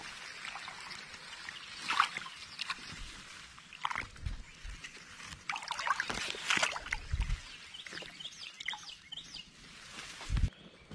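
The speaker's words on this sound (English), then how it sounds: "we're going out in the kayak now" A kayak moves across water, with paddle splashes and drips in irregular bursts against soft trickling, and birds chirp nearby.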